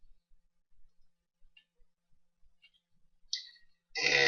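Computer mouse clicks, a few faint isolated clicks spaced apart, then a sharper click and a louder burst of clicking near the end, with no voice over them.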